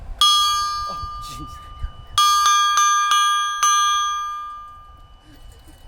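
A large metal bell made from an old scuba tank rings loudly several times, each strike clanging and ringing out long; a voice speaks briefly between strikes.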